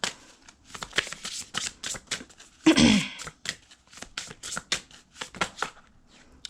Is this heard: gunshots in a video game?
no